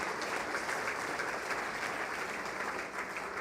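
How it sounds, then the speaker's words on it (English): Steady, even applause from an audience continues without a break, a dense wash of many hands clapping at moderate distance with no voices on top. "again, another round of applause"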